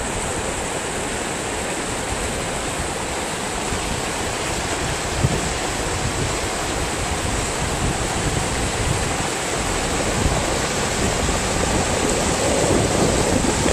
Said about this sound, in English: And once again this year the water is zipping across the road.